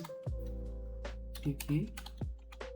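Soft, quick keystrokes on a computer keyboard during database work, a few scattered clicks heard close and quietly over a low background hum.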